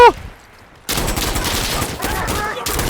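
Sustained bursts of M60E4 machine gun fire in the shooter game Insurgency Sandstorm follow a brief quiet moment and rattle on loudly with slight dips, filling most of the three seconds.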